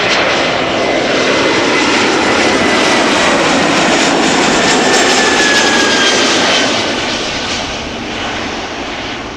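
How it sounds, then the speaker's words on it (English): An Air France Airbus A321 jet, flight 1440 from Paris, arrives at Amsterdam Schiphol on a summer evening, a loud close engine roar with a whining hiss that peaks and then fades as it passes. "Air France, flight 1440 from Paris,"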